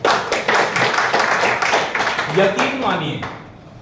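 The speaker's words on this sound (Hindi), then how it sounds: "जायसवाल मैडम के लिए एक जोरदार ताली हो जाए" An audience claps for Madam Jaiswal during an IMC products demonstration and motivational session, a dense burst of hand claps over steady talk that fades near the end.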